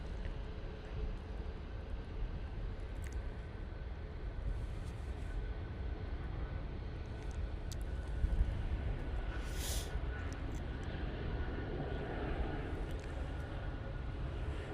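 A departing airliner at Manchester Airport roars steadily at a distance, a broad continuous rumble holding for the whole stretch with no voices.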